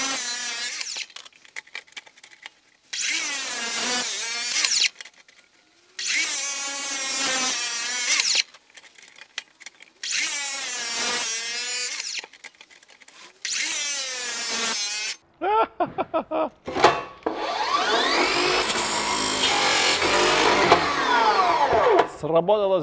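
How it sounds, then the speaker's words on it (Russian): Loud, repeated bursts of a Makita DLW140Z cordless mitre saw biting through wood, five or six cuts separated by brief pauses, ending with a longer whining run. "она достаточно тихо работает, намного тише, чем обычные пилы сетевые"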